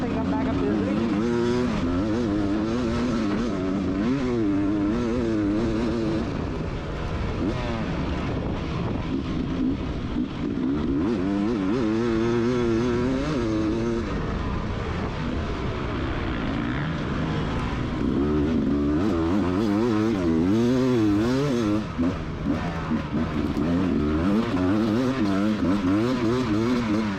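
Adult-class dirt bikes race at the Mountain State Hare Scramble, Round 5 of 2020, with a close engine revving up and down continuously as the throttle shifts, loud and wavering throughout.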